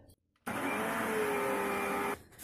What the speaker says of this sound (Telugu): మళ్ళీ ఒకసారి మిక్సీ కొట్టాలి.